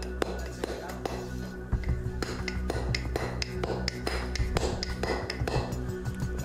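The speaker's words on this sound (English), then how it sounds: "Next, he tries a chisel made of bronze, a material used by the ancient Egyptians." A bronze chisel is struck against stone in a test of ancient Egyptian stoneworking tools, producing a series of sharp, fairly regular taps and clinks at close range, each ringing briefly.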